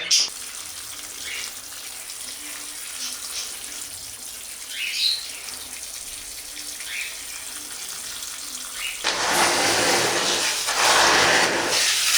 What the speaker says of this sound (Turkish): Şöyle bir leğene koyup bunu güzelce bir yıkayayım ben.